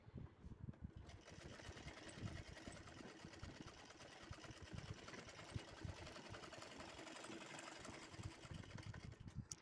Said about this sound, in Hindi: अब हम इसी के ऊपर सिलाई दे देंगे।